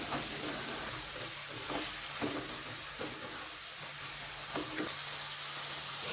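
Oyster sauce and seasoning sauce stir-fried together in a pan for spaghetti with holy basil, making a constant sizzle broken by repeated spatula scrapes and stirs every second or so.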